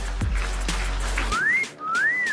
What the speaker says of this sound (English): that was a fantastic whistle